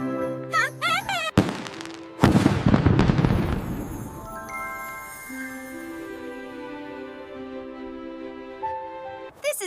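Cartoon fireworks burst in a loud crackling volley midway through, with sharp pops before it and tonal music and effects carrying on as the bangs fade.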